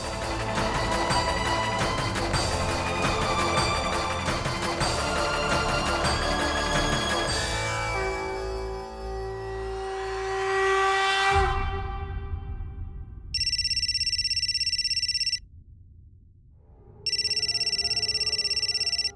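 A phone rings with an incoming call from Kamya: after a stretch of dramatic music fades out, an electronic ringtone pulses in two loud, even bursts separated by a short gap.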